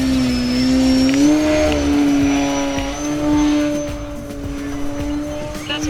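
An E-flite Ultimate 3D electric RC plane flying overhead, its motor giving a loud, steady whine that rises and falls slightly in pitch as it passes, with outdoor wind noise underneath.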